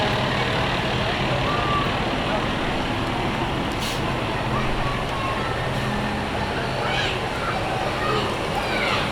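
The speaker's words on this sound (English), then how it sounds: "we have the Black Stallion, a newer 50-ton large wrecker tow truck" A newer 50-ton large wrecker tow truck rolls past in a small-town Founders Day parade, a broad rumbling truck and roadway noise that stays loud and even throughout, with an announcer talking over it.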